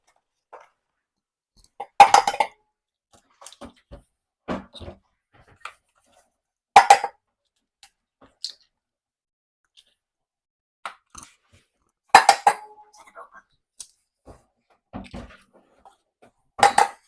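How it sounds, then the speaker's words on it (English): Six eggs are cracked one by one into a bowl for a sausage, cheese and spinach pie, giving sharp, close taps and crunchy shell breaks spaced by quiet pauses, each followed by soft shell-handling clicks. "so we'll just crack them in."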